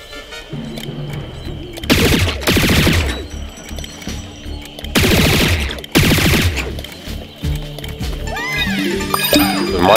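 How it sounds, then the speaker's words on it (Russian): Gunfire in Plants vs. Zombies Garden Warfare 2 comes as loud bursts of rapid shots in separate volleys, over a busy background of game sound effects and music. "стрельба у нас какая-то"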